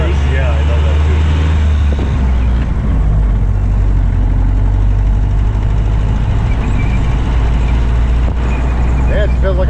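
A 1930 Model A Ford engine and gears run with a loud, steady, close rumble that continues throughout while people talk over it.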